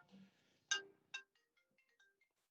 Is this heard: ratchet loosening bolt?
no